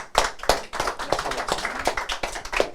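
An audience applauds at a recruitment event in a conference setting, a dense patter of many hands clapping steadily for a few seconds, fairly close and loud, with sharper individual claps standing out.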